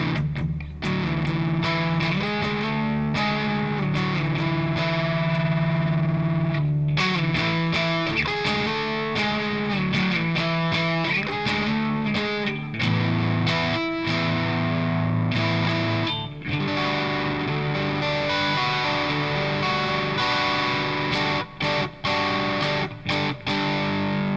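A PRS Special electric guitar with its middle and bridge pickups wired out of phase plays through a Revv G120 MK III amp, giving a loud, continuous distorted tone with effects and a thin, hollow edge, with no talking.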